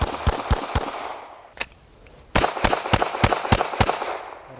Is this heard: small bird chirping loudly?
no